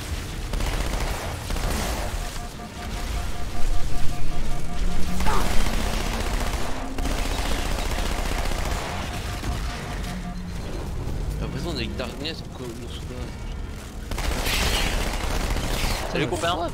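Gunfire and explosions from a cooperative Halo 2 session on legendary difficulty run loud and continuous as game sound, with bursts of automatic fire under other noise, while players talk over it.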